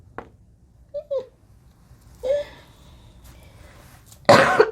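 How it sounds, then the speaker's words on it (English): Someone clears their throat with a few short, raspy bursts spaced apart, ending in one louder, harsher rasp up close. "Let me clear my throat."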